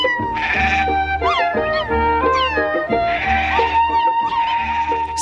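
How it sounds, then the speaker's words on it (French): A cat meows repeatedly, close and loud, in a steady series of drawn-out, wavering cries over a low background hum. "C'est un chat berger?"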